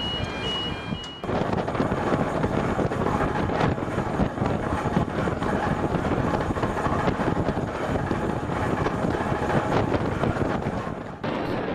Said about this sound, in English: A lot of wind coming into the SkyTrain